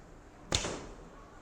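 An arrow loosed from a Turkish laminated bow gives one sharp snap of the string followed by a short fading whoosh, close and otherwise quiet.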